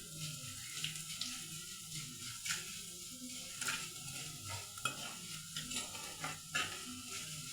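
Onion, ginger and curry leaves fry in a pan, giving a steady, quiet sizzle with occasional soft scrapes and clicks of stirring throughout.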